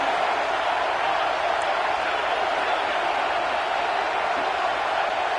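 A football stadium crowd roars after a big third-down play, a dense, steady wall of cheering that holds at full volume for several seconds with no break.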